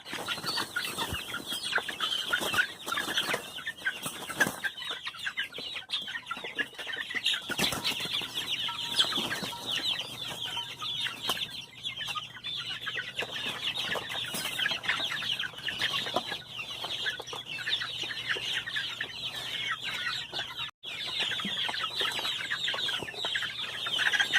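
Young chickens being moved to a new enclosure cluck and chirp steadily, with a dense, continuous flock chatter and occasional wing flaps throughout. No one speaks.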